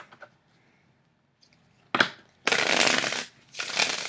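An oracle card deck of thick gilded cardstock is shuffled in three riffling bursts, a short snap then two longer crisp flurries, close and alone in a quiet room.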